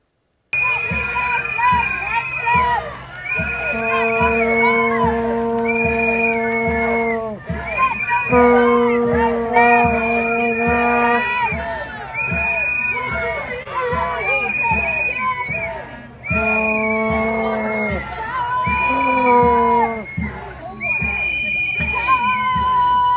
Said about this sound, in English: Pete Hegseth heads to Meridian Hill Park and gets screamed at by protesters while meeting with National Guard troops